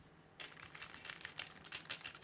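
Typing on a Keychron Q4 custom mechanical keyboard, a quick close run of crisp clacky keystrokes starting after a brief pause and continuing steadily, alone.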